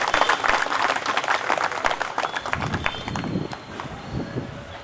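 Loud, dense applause from a crowd at a BJP Kisan Morcha gathering in Chamba welcomes a speaker, clapping steady at first and then thinning out slightly toward the end.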